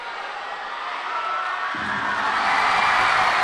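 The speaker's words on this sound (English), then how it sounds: "the crowd celebrate" Judo arena crowd at the Zagreb Grand Prix roars in sustained cheering and celebration, a broad wash of many voices that swells and grows louder toward the end.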